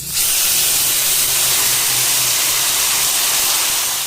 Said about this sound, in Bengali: আদা, রসুন, পেঁয়াজ, কাঁচা লঙ্কা, টমেটো একসঙ্গে পেস্ট করা দিয়ে দেবো।